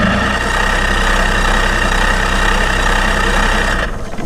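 A new Tracker boat's engine in Nashville, Tennessee runs loud and steady at idle with a deep, rough rumble, then cuts out abruptly just before the end.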